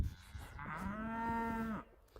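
A grass-finished steer on a perennial pasture lets out a single long, close moo that rises and holds for about a second before trailing off, with faint outdoor background around it.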